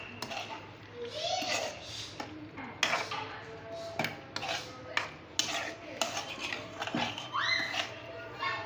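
A spoon stirs chicken kadhai with turmeric, black pepper and salt in a metal pan, giving scattered scraping and clinking knocks at close range amid soft background voices.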